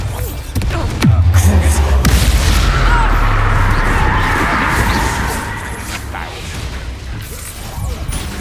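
A Bombarda explosion spell in Hogwarts Legacy lands with a heavy crashing boom, followed by a long rumbling decay and debris-like clatter that slowly fades over several seconds.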